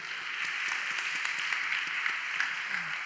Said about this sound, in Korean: 너무나도 불쌍한 애들인데 격려의 박수 하겠습니다.